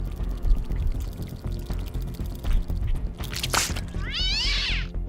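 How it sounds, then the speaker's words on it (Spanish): A cat screams near the end of the horror film Slither, a sharp wavering shriek rising late over a dense, liquid-sounding background of dripping and pouring noise. "de repente corta a negro con el animal gritando, indicando que fue atacado"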